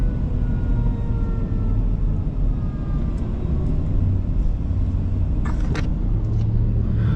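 Fire trucks in a funeral procession roll past with a continuous low engine rumble, loud and steady, with faint brief higher tones near the end.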